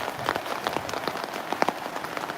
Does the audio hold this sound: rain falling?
yes